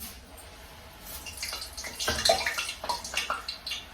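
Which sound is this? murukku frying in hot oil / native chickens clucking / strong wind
murukku frying in hot oil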